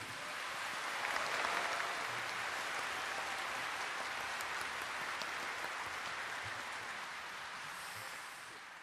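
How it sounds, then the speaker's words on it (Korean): A large crowd at a national Liberation Day ceremony applauds steadily as 80 citizen representatives enter, a faint, even wash of clapping heard from a distance that fades slightly toward the end. "큰 박수를 부탁드리겠습니다"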